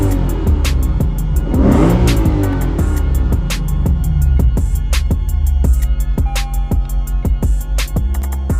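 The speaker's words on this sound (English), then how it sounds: "car started up perfectly" A Lexus RC F's engine revs hard and repeatedly up close after an ECU reset, loud throttle blips rising and falling with sharp pops and crackles between revs.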